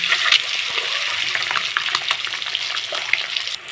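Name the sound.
eggs frying in oil with salt and turmeric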